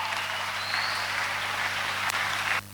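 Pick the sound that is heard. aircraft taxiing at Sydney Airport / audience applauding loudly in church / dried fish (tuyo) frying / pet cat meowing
audience applauding loudly in church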